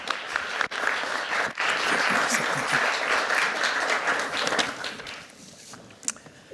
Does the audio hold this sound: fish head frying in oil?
no